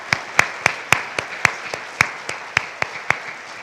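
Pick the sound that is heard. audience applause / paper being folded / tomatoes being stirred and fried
audience applause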